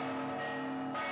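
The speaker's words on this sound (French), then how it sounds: "Ces cloches, elles ont sonné bien avant nous. Elles ont toujours résonné de la même façon." Old church bells in a Russian bell tower ring out as one sustained, resonant tone. It is steady and moderately loud for about a second with no voices.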